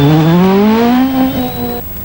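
Group B rally car at the 1985 Scottish Rally charging up a hill climb, its engine howling loud and close, with rising revs through one gear before a quick lift and a rasping fall-off.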